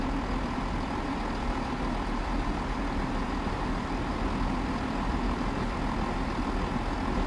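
Diesel engines of a Class 166 train in Train Sim World 3 rumbling steadily, a constant low droning hum with no change in pitch and no talk over it.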